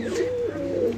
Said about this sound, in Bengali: এই গেল আপনার একটা বেজি নর কবুতর